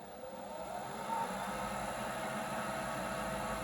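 A lathe motor runs up to its maximum speed, a steady mechanical hum that swells slightly early on and then holds at an even, moderate level.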